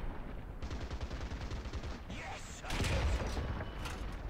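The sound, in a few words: gunfire in a firefight, War Thunder video game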